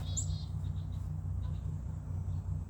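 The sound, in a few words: chickadee calling at a suet cake feeder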